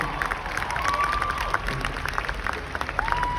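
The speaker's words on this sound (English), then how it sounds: "Can we give them a round of applause?" A crowd claps and cheers steadily at an outdoor summer music festival concert, dense applause filling the space with scattered shouts rising above it.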